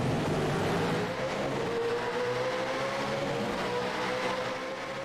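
Race car engines roar continuously at high revs in iRacing's V8 America's Series at Circuit of the Americas, a dense pack of V8s droning loudly with rising pitch as the field gets the green flag.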